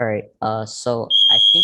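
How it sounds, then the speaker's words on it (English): A smoke alarm gives a sharp, piercing high beep that cuts across a man's nearby speech, sounding once loud and steady between his words. "oh, that's my fire alarm."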